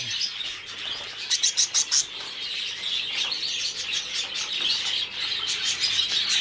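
A dense chorus of white cap budgies chirping and chattering continuously, with quick bursts of sharper tweets rising above the steady twittering.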